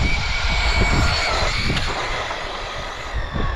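WOV Racing Tyrants RC car at full throttle, a loud, steady high-pitched motor whine that holds through the whole run with slight rises and dips, close to the listener and with no talking.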